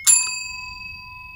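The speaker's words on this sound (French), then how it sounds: "refais sonner la cloche encore une fois" A single bell strikes once, loud and close, with a sharp metallic attack followed by a long, clear ringing tone that slowly fades into quiet room noise.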